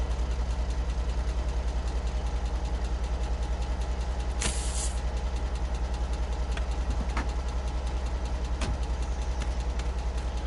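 A truck in the video game Alaskan Road Truckers idles with a steady, even engine rumble and pulsing low throb throughout, with a few faint clicks and a brief hiss, no talking.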